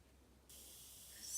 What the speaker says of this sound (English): all I'm going to do is take some of my setting spray again,